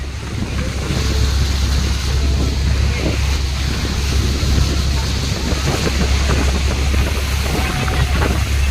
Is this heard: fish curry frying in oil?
no